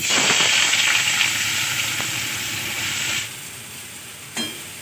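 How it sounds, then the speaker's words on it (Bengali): A loud, dense sizzle of potatoes frying in hot oil, steady at first and then dropping in level, with a brief clatter near the end. "তেলটা গরম হয়ে গেছে, এখন আমি আলুটা দিয়ে দেবো।"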